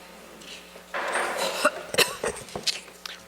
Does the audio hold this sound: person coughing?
yes